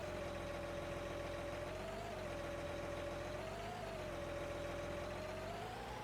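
A tractor engine idles in the game Farming Simulator 19, a steady, even mechanical drone with a constant hum that wavers only slightly, continuous and unbroken with no voices.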